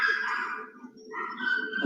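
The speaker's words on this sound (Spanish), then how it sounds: "Ahora se me va un perro al lado." A dog whimpers nearby in a series of thin, high whining tones that fade briefly midway and then resume, with a low steady background hum underneath.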